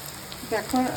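Fresh green chilies dropped into a pan of frying onions and chicken, a short soft sizzle that swells and crackles briefly, close and fairly quiet.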